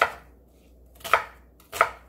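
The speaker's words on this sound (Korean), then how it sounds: "양파 중간 크기 1개 썰어주세요." Three crisp knife chops cut through a medium onion on a cutting board while making an all-purpose kimchi seasoning, spaced about a second apart and heard alone and close.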